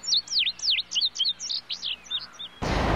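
Bird chirping sound effect: a quick run of bright, sweeping tweets repeating close together, then a short burst of hiss at the very end.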